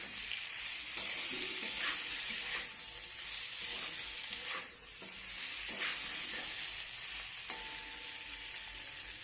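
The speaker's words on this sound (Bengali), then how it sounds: "এবার নেড়ে নেব।" Cumin, coriander, turmeric, ginger and chili sizzle in a hot frying pan under a continuous hiss, broken by periodic scraping strokes of a spoon stirring the spices.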